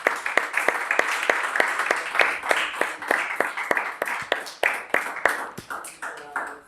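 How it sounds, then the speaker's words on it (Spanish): A church congregation applauding during worship, a loose, rhythmic run of sharp hand claps in a reverberant room, fairly close and steady, with a few voices mixed in. "vamos dándole un aplauso al Señor"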